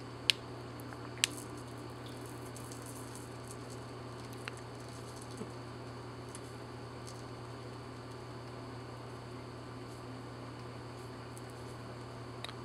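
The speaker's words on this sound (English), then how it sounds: "I'm hopeful that you can hear the sizzling and popping sounds." Faint crackling and sharp isolated pops of a laser burning aiptasia anemones underwater in a marine aquarium, over a steady low hum, the pops sparse and irregular across the quiet background.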